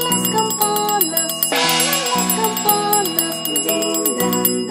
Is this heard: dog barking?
no